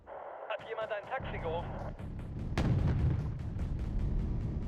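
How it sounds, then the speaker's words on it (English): A Leopard 2 tank firing on a T-72 in the Wargame: Red Dragon strategy game, a sharp cannon crack followed by rumbling battlefield gunfire and explosions, with radio chatter and a voice talking over it. "Let's have the Leopard 2 stop and fire at that."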